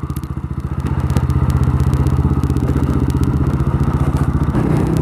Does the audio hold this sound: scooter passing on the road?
yes